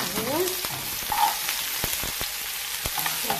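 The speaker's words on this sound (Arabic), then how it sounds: "ودلوقتي معايا طاسة على النار فيها شوية زيت، هنزل بالبصل اهو" Onion goes into hot oil in a pan and sizzles steadily up close. Scattered clicks and taps of stirring cut through the sizzle, and a faint voice is heard briefly at the start.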